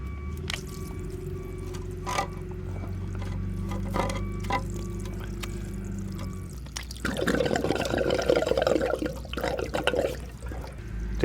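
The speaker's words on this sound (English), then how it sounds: "We want the water to come out like that." Water runs from the drain plug of a Hayward pool pump, a faint trickle with occasional drips, then swelling into a stronger pouring splash in the second half.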